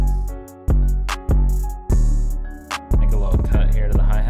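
A trap beat made in FL Studio plays piano chords over booming 808 bass hits and ticking hi-hats with no snares. Loud, punchy and steady, with no voice.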